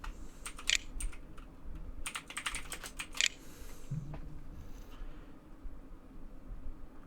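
Typing on a computer keyboard in quick clustered bursts of clicks, close and fairly quiet, then trailing off into faint room noise.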